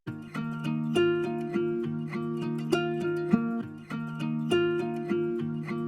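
Two electric guitar takes in FL Studio, panned hard left and hard right, play a rhythmic chord riff together with steady repeated strums, loud and full.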